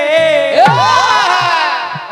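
An audience at a jawabi kirtan, a devotional singing contest, lets out a loud, sustained cheer with shouts and whoops that swell and then slowly fade over about two seconds.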